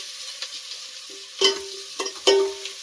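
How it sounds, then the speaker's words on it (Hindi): Onions fry for a mutton curry in a pan: a close, steady sizzle with a few sharp metallic spatula clinks and scrapes as they are turned. "तो अभी प्याज भून रहे हैं।"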